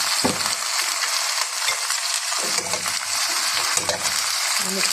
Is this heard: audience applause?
no